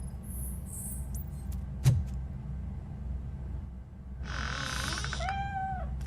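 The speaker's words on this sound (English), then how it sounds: "The cat is fine. You can take it back to its owner." A cat meows in RoboCop: Rogue City, one clear rising-then-falling meow near the end over a low steady ambient hum, preceded by a brief sharp knock.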